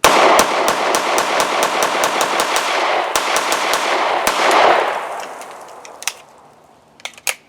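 An Intratec AB-10 pistol fires live rounds in a rapid string of loud, sharp, close shots with short pauses, the echoes fading into a few scattered final shots and clatter.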